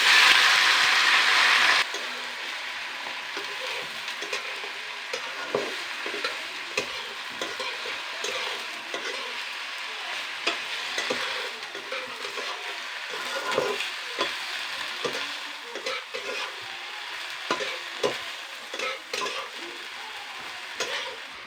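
Cubed taro frying in a pan with onions and green chillies, a steady sizzle broken by repeated scraping and clacking of a spatula stirring, close and loud with no voices.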